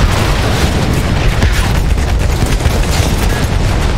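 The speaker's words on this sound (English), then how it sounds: "He's still bombing me, bro." Bombs from bomber planes exploding in Battlefield 1, a dense, loud barrage of booming blasts and crackling bursts rumbling continuously close by with no clear pauses.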